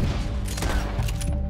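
Gunfire in Red Dead Redemption 2 crackles as a dense, loud volley of overlapping shots over a constant, noisy game soundscape, lasting under two seconds.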